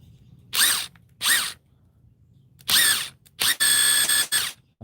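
A Bosch 18V brushless 1/2-inch impact wrench (GDS18V-221N) fires in five short, loud close bursts, the last few longer, separated by brief quiet gaps.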